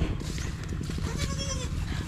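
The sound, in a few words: pet goats bleating on a farm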